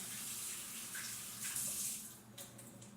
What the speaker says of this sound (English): I'm rinsing my palette, scraper or whatever, palette knife, putty knife, whatever it is.